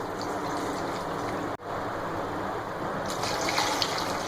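Water pours steadily into a cooking pot of beef trotters for a paya curry, a continuous broadband gush with a brief break midway and a brighter splashing tone near the end.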